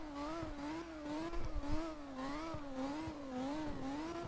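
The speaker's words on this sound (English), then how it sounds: "this car sounds so good" A car engine revs in the CarX Drift Racing video game, a steady droning tone that swells and dips in a wavering rhythm over road and tire noise, loud and continuous with no talk.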